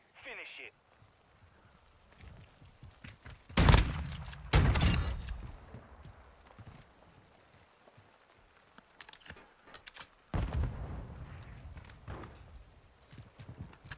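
Gunfire in Call of Duty: Modern Warfare 2, a few sharp bursts of shots with quieter sporadic pops between, heard under players talking over voice chat.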